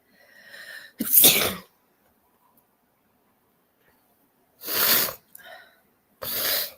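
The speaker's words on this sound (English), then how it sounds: "Wait, another sneeze." Two loud, close sneezes a few seconds apart, the first with a breathy build-up, separated by near silence.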